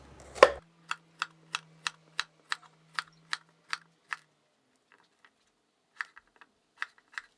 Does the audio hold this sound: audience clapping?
no